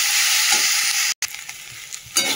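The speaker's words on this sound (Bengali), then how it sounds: "তারপরে ঢাকা দিয়ে দেবো, আস্তে আস্তে হতে থাকবে ভাজা" Ivy gourd and potato frying in a pan with green chillies, a loud close hiss and sizzle that drops out for an instant, then returns quieter before swelling again.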